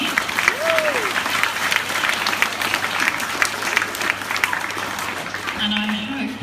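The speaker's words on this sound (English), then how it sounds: "Can we give these people a big round of applause again?" A school assembly audience of parents and children gives a sustained round of applause, loud and even throughout, with some voices mixed in.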